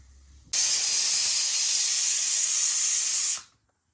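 A pressure cooker cooking dal lets out one steady, loud, hissing jet of steam for about three seconds, then cuts off sharply into quiet.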